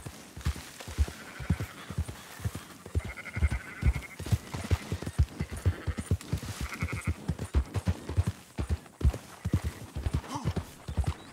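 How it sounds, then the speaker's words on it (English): Sheep bleat faintly among quick, steady hoofbeat clip-clops on a ranch in the video game Red Dead Redemption 2, with the animals driven along at a moderate distance. "Marston, why don't you leave the sheep to me?"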